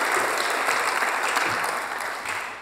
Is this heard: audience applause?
yes